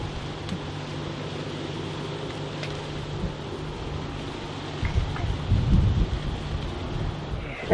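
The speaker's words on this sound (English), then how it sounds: "It's been raining so much" Steady rain patters in Jamaica with a low rumble of thunder rolling in partway through, moderately loud and continuous.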